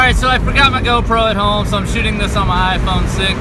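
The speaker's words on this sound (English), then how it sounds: "Windows are down, hitting the highway." A Mazda Miata cruising on the highway with the windows down makes a steady, loud roar of wind and road noise that rumbles under someone talking close to the phone microphone.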